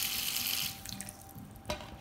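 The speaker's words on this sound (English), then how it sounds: "you need to add water to potatoes" Tap water pours steadily onto potatoes in a roasting dish for Greek roast lamb, a bright rushing splash that tapers off into a few drips and a faint clunk.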